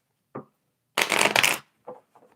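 Tarot cards are shuffled close up: a short riffle, then a longer dense burst of rapid card flutter, followed by a couple of brief taps and slides as the deck settles.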